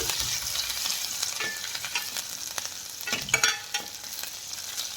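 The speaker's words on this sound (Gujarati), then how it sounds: "આદું અને લીલા મરચાંને એમાં એડ કરશું અને થોડુંક સાતડી લેશું આને" Green chillies and ginger sautéing in a pan for a moong dal dish, a steady hissing sizzle close by with a few stirring scrapes, no voices.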